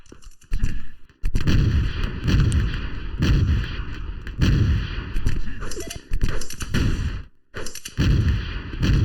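Rocket launcher blasts in the arena shooter OpenArena during a competitive duel, a dense string of loud booming explosions and gunfire with brief gaps, over steady game noise.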